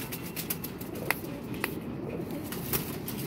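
Pigeons kept in a loft coo softly through the clip, including a tethered female, with faint wing flutters and scattered clicks; the sound is steady and low, with no voices.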